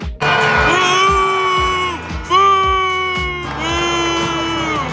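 Opposing fans boo Taylor Swift at a stadium football game, a loud, sustained crowd boo rising and falling in long waves with shouts and thumps mixed in.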